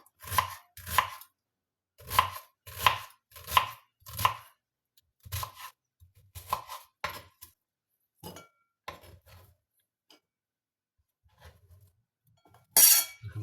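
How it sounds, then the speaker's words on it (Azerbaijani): A knife chops steadily on a board, a run of sharp, rhythmic strikes that slows and thins out toward the end, with a brief clatter at the close. "bir neçə hissəyə bölüb belə və xırda-xırda beləcə doğrayırıq."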